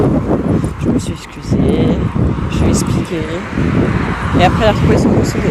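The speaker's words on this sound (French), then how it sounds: "désolée pour le bruit de la circulation" Steady road traffic rumbles continuously beneath someone talking in French close to the microphone, with an occasional louder engine passing.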